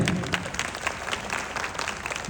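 Audience of teachers at a science congress workshop applauds steadily, a dense patter of many hands clapping at close range for a couple of seconds without pause.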